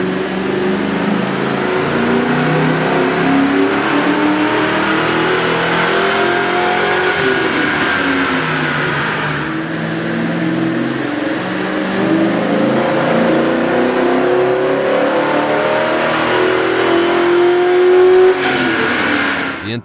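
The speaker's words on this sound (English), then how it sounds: "With the air intake installed, we ran the vehicle on the dyno to test the sound comparison versus the stock intake." 1996-2004 Ford Mustang GT with a K&N 57-2519-3 cold air intake revving on a dyno, a loud, throaty engine note repeatedly climbing and falling in long sweeping pulls, continuous throughout with no talking.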